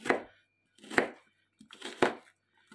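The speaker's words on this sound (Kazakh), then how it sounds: "пиязын турап алып жатырмыз" Lamb ribs or onions being chopped with a knife on a board, four distinct heavy chops spaced about a second apart, close and clear with no talk.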